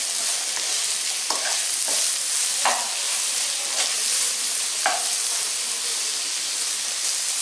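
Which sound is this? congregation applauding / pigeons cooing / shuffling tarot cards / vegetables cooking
vegetables cooking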